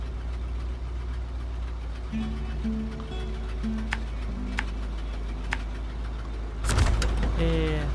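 Truck driving through rough terrain in SnowRunner, a steady low engine drone with faint ticks and a short humming tone, ending in a louder burst of rumbling and clatter.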